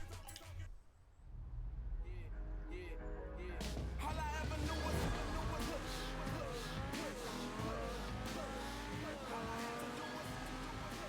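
A high-revving Lamborghini Huracán engine in Forza Horizon 4 roars continuously, climbing and shifting through gears with tire squeal, loud and close.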